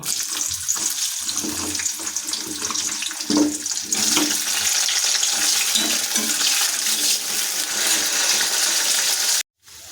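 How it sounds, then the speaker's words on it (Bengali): Flat beans and green beans fry in hot oil with a steady, loud hiss and crackle that runs almost unbroken, dotted with faint clinks, before cutting off sharply at the very end. "কেটে রাখা সিম আর বিনসগুলোকে ভাজা করে নেব"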